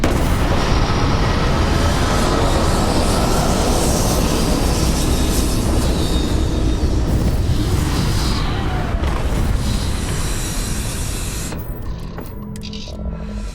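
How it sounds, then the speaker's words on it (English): Spaceship retro thrusters fire during a landing in the video game Starfield, a loud, steady, dense roar that holds without letting up before it fades and cuts off at the end. "Landing struts primed. Retros firing."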